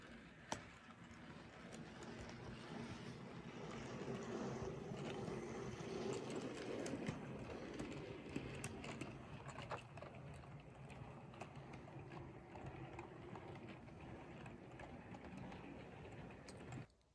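A steady mechanical whir of a Bachmann HO scale Hogwarts Express model train rolling slowly along its track, continuous and moderately close, with faint rhythmic clicks and no talking.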